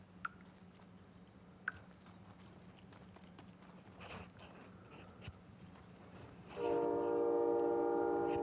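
Train in the Call of Duty: Modern Warfare video game, a low steady rumble with faint clicks, then a loud sustained horn blast comes in for the last couple of seconds.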